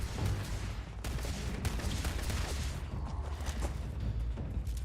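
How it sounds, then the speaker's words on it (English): Robots firing guns in Starfield: dense, steady volleys of rapid shots fill the whole stretch, loud and close, with no talking over them. "You guys are shooting at a bush."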